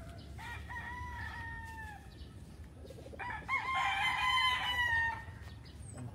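Roosters crow and hens cluck on a large poultry breeding farm in the Philippines, one long crow rising loudly near the end over a steady low farmyard hum.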